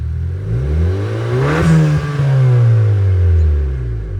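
A Honda Accord engine revs briefly, climbing in pitch to a peak and then dropping back to idle. The sound is loud and close, with no talking.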